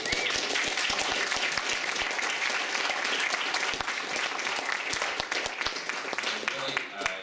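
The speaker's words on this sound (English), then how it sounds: "most of that applause should be directed to Jarno" Conference audience applauding a software toolkit release, a thick, sustained burst of clapping from a sizable crowd that stays loud and even throughout.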